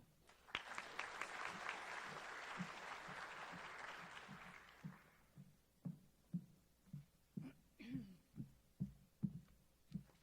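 Audience applause at a National Honor Society induction ceremony breaks out suddenly and holds for about four seconds before stopping, leaving a quiet room with a series of soft, evenly spaced low thumps.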